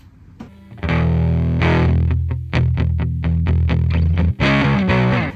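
An electric guitar runs through a cheap cassette recorder acting as a distortion effect, producing loud, gritty, saturated chords strummed in bursts with short choppy stabs and a sustained final chord.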